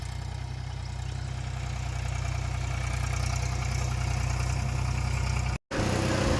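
A tractor engine drones steadily at close range while sowing groundnuts in a field, a continuous low rumbling hum that cuts out for a split second near the end.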